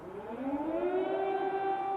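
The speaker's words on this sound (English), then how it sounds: "Sirens are now more frequent" Air raid sirens wail across a Ukrainian city in wartime, a loud, steady rising tone with layered harmonics that swells and holds over two seconds, with no voices.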